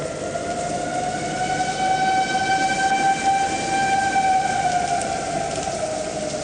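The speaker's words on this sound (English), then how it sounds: "those are the outdoor warning sirens here, and the reason that they are going off" Outdoor tornado warning sirens wail steadily during a North Texas storm, a sustained rising and falling tone heard alone with no talking, loud and continuous throughout.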